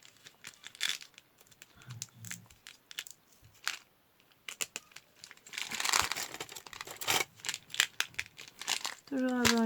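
Haul package being opened, its plastic wrapping crinkling and tearing in close, irregular bursts while someone talks over much of it.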